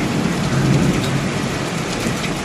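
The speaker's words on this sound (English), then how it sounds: "it's pouring and it's thunder and lightning so bad" Heavy rain pours down in a steady, loud roar, with a low rumble of thunder rolling beneath it, no voices present.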